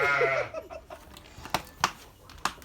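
A sheep on a farm on a cold morning gives a drawn-out, wavering bleat up close, followed by a few short sharp knocks and rustles.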